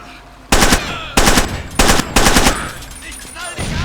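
Automatic gunfire in the video game Far Cry 2 rips out in four loud, close bursts of rapid shots, separated by short gaps, with a quieter tail of fire at the end.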